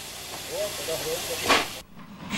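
A Russian steam locomotive vents a steady, loud hiss of steam that swells into a brief burst before cutting off, with a faint voice-like tone beneath.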